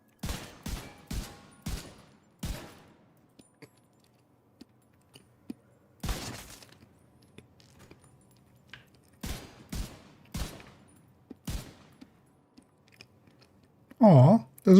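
Video game gunfire rings out in sharp bursts of rapid shots, with quiet gaps between volleys, while a person talks intermittently.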